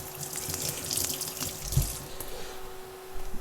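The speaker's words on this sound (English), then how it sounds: "Now I wash my knife" A kitchen knife is rinsed under a running tap, a steady broadband rush of water close by with a few brief clatters and splashes as the blade moves through the stream.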